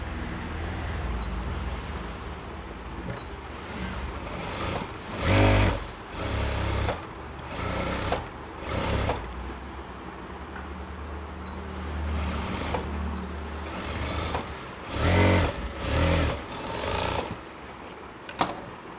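A sewing machine stitching a nightie runs in repeated bursts of rapid mechanical whirring, close and fairly loud, stopping and restarting several times with no voices.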